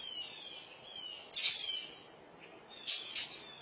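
Mockingbirds give faint, thin alarm calls in a garden, a few sharp chirps and a wavering whistle heard at a distance over low background noise.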